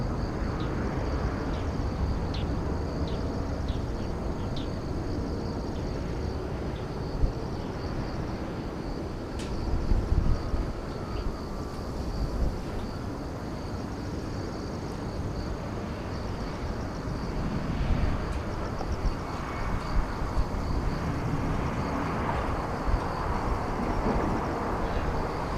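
Boeing 787-10 Dreamliner airliner passing at Incheon airport, a steady broadband jet roar sustained throughout at moderate distance, with outdoor wind and ambient noise.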